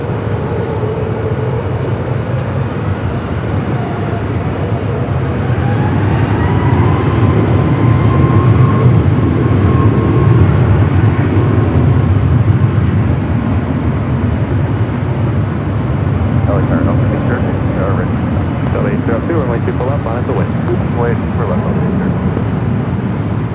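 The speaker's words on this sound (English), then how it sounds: "We also have Singapore, the 777-300ER, heading here to the north side." A Singapore Airlines Boeing 777-300ER comes in to land on the north side of Los Angeles International Airport, its engine rumble swelling at a moderate distance and then easing back, with a voice talking at times over the steady roar.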